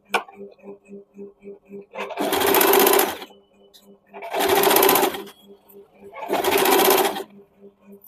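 A sewing machine stitches a blouse in three loud runs of about a second each, with light ticking and a quiet hum between them, while someone talks in Hindi.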